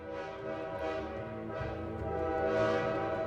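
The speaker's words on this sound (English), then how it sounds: "They could hear train horns wailing through the city." Train horns wail through a city in a steady, sustained, layered drone that swells slightly toward the end, moderately distant with no talking.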